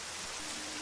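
Steady rain falls in Sakura School Simulator, a soft even hiss of rainfall with no breaks, fairly quiet and heard alone.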